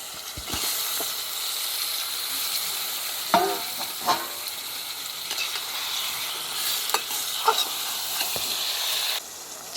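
Chicken frying in a pan with browned onions and curry leaves, a steady close sizzle broken by several scraping stirs of a spoon, with no talk.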